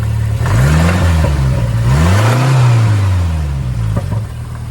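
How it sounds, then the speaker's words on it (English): A Ford Ranger pickup with a swapped-in 2.3 turbo coupe engine revs up and down close by, rising and falling twice in smooth sweeps before settling back to a rough idle. "give it a little rev here"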